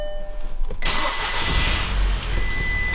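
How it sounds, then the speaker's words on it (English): A Volkswagen Golf R cranks and fires up after a boost gauge install, the engine catching with a short rise and then settling into a steady idle close by. "let's get in the car and start it for the first time"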